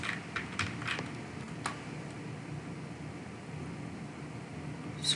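Keys tapped on a computer keyboard while entering a Java version command at a Windows 10 command prompt, a quick cluster of faint clicks early on, then a lone tap, over steady fan-like background hiss.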